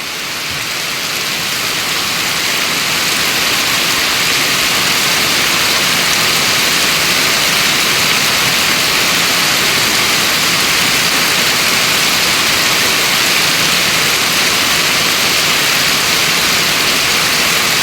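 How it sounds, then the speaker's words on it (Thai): Heavy rain pours steadily with strong wind, a dense, loud, unbroken hiss of downpour that swells at the start and then holds constant, with no voices. "ดูฝนสาดเข้าไปหาขมืนนะครับ"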